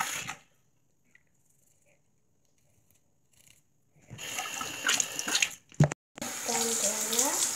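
Tap water runs into a sink as a toothbrush used with braces is rinsed. Near silence gives way to a close, loud rush of running water, broken by a brief knock before the flow resumes.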